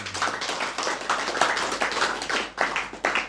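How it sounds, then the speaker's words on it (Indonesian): An audience at a live religious study gathering claps hands together in a sustained, fairly loud burst of many overlapping claps, rising and dipping slightly near the end, with no talking. "Tepuk tangan."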